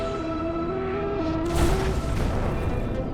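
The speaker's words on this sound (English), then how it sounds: "Let's explode the bomb before it touches the asteroid." A cartoon bomb detonates just above an asteroid in space: a low rumbling boom swells in about halfway through over a steady synthetic tone bed, then fades into a sustained roar.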